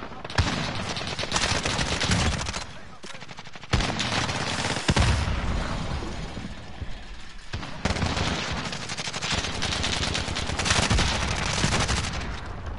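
Heavy bursts of automatic gunfire and single shots in a Call of Duty match, loud and nearly continuous with brief pauses and sharp booms, layered with game sounds and no clear speech.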